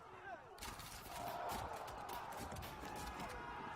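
Musket volley from troops in the strategy video game Field of Glory 2, a burst of crackling gunfire rolling on for several seconds at moderate distance, with no speech over it.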